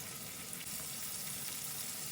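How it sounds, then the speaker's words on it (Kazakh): Carp fish frying in hot oil, both sides browning in a pan, giving a steady, dense sizzle that runs unbroken throughout at moderate loudness with no talk. "Қызып тұрған майда екі жағын қызартып қуырып аламыз"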